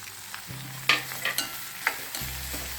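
Onions, green chili, ginger and garlic sauté in hot oil for anchovy fish puttu, a soft steady sizzle broken by a few scraping stirs and light utensil knocks, close and quiet.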